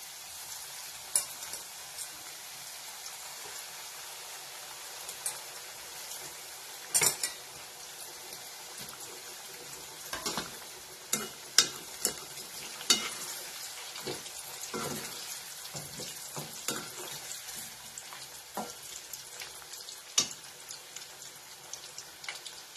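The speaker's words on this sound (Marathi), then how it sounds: "ते असं तळून घ्यायचं" Mini potato spring rolls fry in hot oil with a steady, moderate sizzle. Scattered clinks and scrapes from stirring and utensils punctuate it, and no one speaks.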